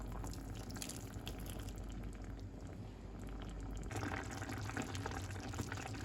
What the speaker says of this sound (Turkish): Bir çay bardağı daha su ilave ediyoruz arkadaşlar